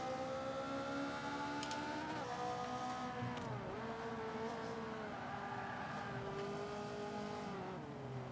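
Ferrari racing in Forza 5, its engine pitching up and down through gear changes with a sweeping drop as it brakes for a corner, steady and prominent, with no talk.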